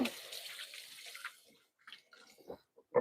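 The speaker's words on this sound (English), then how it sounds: "Let me wash my finger off." Tap water briefly running in a kitchen sink while a finger is rinsed, a faint soft splashing that tapers off into a few small drips and clinks.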